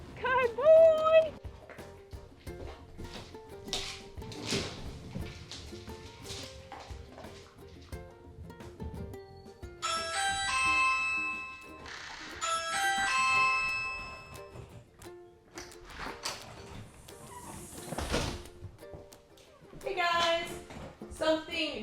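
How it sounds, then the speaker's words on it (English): A doorbell chimes twice with clear ding-dong tones in a home, with a puppy in the room, among shuffling movement, a dog noise and people talking at other points. "Something Joey has learned during his stay with us is what his job is when the doorbell rings."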